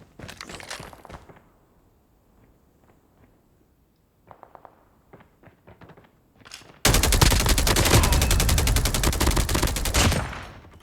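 Automatic machine gun fire in the Call of Duty Mobile battle royale, with scattered shots and footsteps first, then a loud, sustained burst of rapid gunfire for about four seconds.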